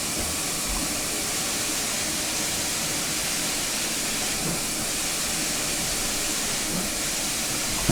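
A GWR Saint steam locomotive in a train simulator game lets out a steady, loud, unbroken hiss of steam that stays even from start to finish.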